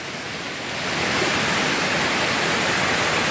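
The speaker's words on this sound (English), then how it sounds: "We came to this waterfall" A waterfall near an old mill in Dayville, Connecticut pours in a steady, loud broadband rush. It swells up over the first second, then holds constant and close with no voices.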